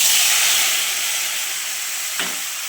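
Onion paste hitting hot oil in a pan already holding bay leaf and white cumin, cooking for an egg curry: a steady, bright sizzling hiss that slowly eases, with a brief stir or scrape near the end.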